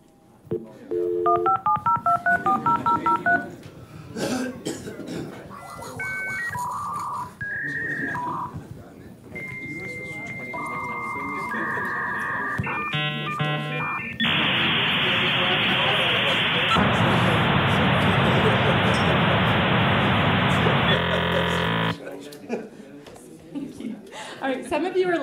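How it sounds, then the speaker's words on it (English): A dial-up modem connecting, with dialing tones and beeps, warbling handshake tones, then a long loud burst of hissing noise before it cuts off, as an audience laughs. "That was the dial-up modem."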